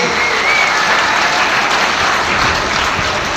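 Loud, sustained applause from a rally audience greeting a call to congratulate the country's athletes, a dense wash of clapping that holds steady from start to finish with no voices rising above it.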